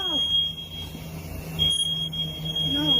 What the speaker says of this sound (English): Fire alarm's low.